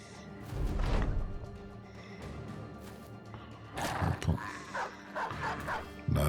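A war dog barks and yips in the medieval video game Battle Brothers, with short bursts mixed with clashing combat sounds and a low background rumble.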